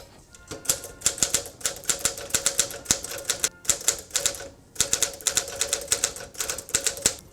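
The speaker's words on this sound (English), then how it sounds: "So this is the Smith Corona Clipper." Rapid mechanical keystrokes on a Smith Corona Clipper typewriter clatter in quick bursts, with a short pause midway and a carriage-like thunk, close and crisp.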